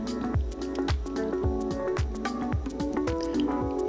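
Pie dough made with butter and ice water is mixed by hand in a bowl, giving rhythmic squishing strokes about twice a second, close and steady.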